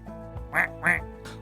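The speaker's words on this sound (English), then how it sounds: "That sounds like the ducks, said Ashlyn." Two loud, close duck quacks in quick succession, followed by a fainter third call, heard alone in a children's story about ducks flying overhead.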